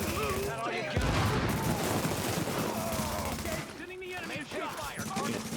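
Loud, sustained bursts of automatic gunfire in a video game firefight, rapid shots overlapping with explosions, with players talking over the shooting throughout.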